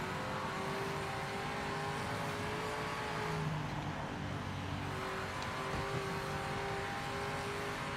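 A car engine in a racing video game drones and revs continuously at high pitch, steady and loud throughout, with a synthetic, game-like tone and no talking.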